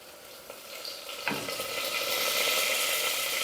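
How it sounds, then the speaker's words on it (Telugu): Vegetables fry in hot oil in a pan, giving a steady close sizzle that builds slightly, with one brief stirring clatter early on. "మనం వీటిని ఒక 2 నిమిషాలు ఆయిల్లో వేయించుకుందాం."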